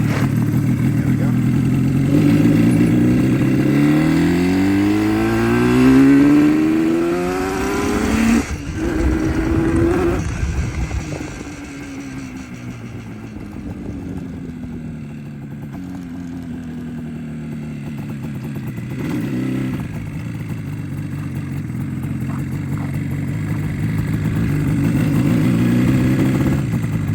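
A restored 1976 Yamaha RD400 motorcycle is ridden up close, its engine rising and falling through gear shifts with loud revving sweeps, a brief dip, then a steadier drone as the ride continues.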